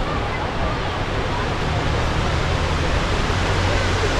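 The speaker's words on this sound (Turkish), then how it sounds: "Sıcak havada yaptığımız yolculuk sonunda Erzincan Girlevik Şelalesine geldik." Girlevik waterfall in Erzincan roars with a loud, constant wash of falling water heard up close, with faint murmuring voices blended into it.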